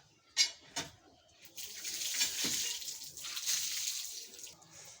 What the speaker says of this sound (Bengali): তারপর ধুয়ে নিচ্ছি হাতটা